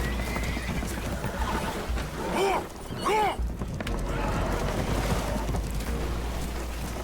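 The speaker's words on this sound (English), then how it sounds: "Horses are spooked" Spooked horses on a damaged boat taking on water in Red Dead Redemption 2, neighing twice in quick loud whinnies over a rumbling background of water and movement, with voices nearby.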